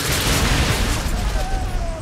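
Gunfire in The Order 1886 is a dense, noisy burst of shots heard over a low rumble, with a voice present in the mix.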